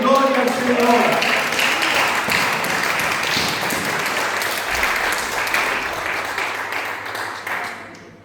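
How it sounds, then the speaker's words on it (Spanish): A church congregation applauding during a Spanish-language worship service, dense sustained clapping that starts loud and slowly thins out, with voices mixed in underneath. "Dale un aplauso a Él."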